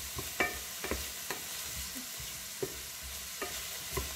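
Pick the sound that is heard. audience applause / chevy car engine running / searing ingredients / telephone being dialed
searing ingredients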